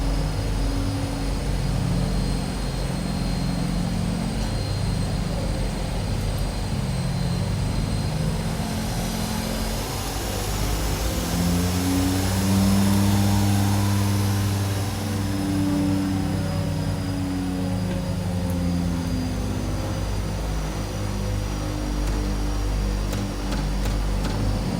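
Twin Otter seaplane in a flight simulator, both turboprop engines and propellers droning steadily and loudly throughout, with a slight swell in pitch and intensity partway before settling back.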